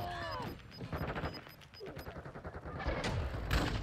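Rapid bursts of gunfire from the Call of Duty video game crackle in quick, evenly spaced volleys at moderate loudness, mixed with game effects and brief radio-style voices.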